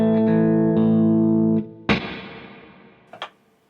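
An electric guitar played through an SP Verb room-type reverb pedal rings in sustained chords, then a sharp strummed hit decays into a short room tail before a final quick pluck.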